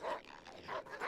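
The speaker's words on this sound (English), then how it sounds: "I'm afraid to attack these dogs." Dogs bark in the survival game HumanitZ, two or three sharp barks close by, fairly faint overall, with no talk.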